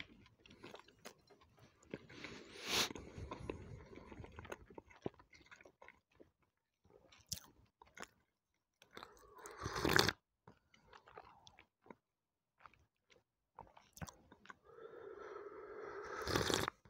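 Sausages with ketchup being eaten up close, with soft moist bites and chewing in scattered bursts separated by near-silent pauses, quiet and intimate, with no talk.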